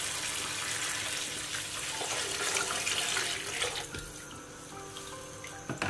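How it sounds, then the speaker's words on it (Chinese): Water pours steadily into a pot of fried tomatoes, a continuous close splashing flow that thins out and ends with a few drips. "西红柿炒好之后，在里面根据家里人口多少倒入适量的清水"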